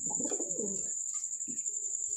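A single pigeon gives a soft, low coo up close, followed by a shorter murmur, over a steady high-pitched insect-like whine.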